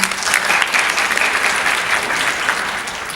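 An audience at a high school Spanish Honor Society induction ceremony in 2015 gives loud, sustained applause, a dense wash of clapping that holds steady throughout with no voices over it.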